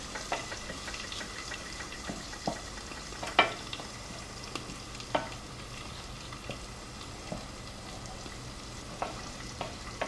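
Food melts and sizzles in a frying pan during breakfast cooking, a steady soft frying hiss with scattered sharper crackles and pops, close and fairly quiet, with no talking.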